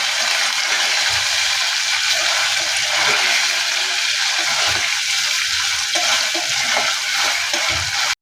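Rice and paneer being stirred and mixed in a pan over heat, a steady sizzling, frying hiss with soft scraping stirs running continuously and close up.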